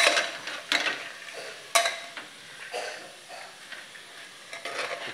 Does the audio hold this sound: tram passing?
no